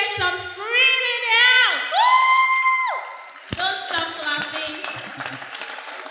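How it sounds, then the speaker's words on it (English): An audience at a PWE wrestling show screams and whoops loudly, with long high shouts followed by a burst of mixed crowd cheering and clapping. "Come on, let me hear some screaming out."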